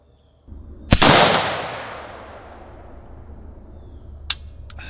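A rifle fitted with a Gunnr Odin 1-10x scope fires at a target on a range: one loud, sharp crack with a long decaying echo, then a fainter click about three seconds later.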